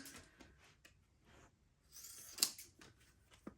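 Quiet, close snips and crisp cuts of scissors trimming stiff plastic lamination, irregular and soft, with one sharper click partway through.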